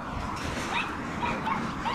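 A dog on a Tucson street lets out a few thin, high whimpers and yips against a background of outdoor ambience, brief cries spaced a fraction of a second apart, moderately close.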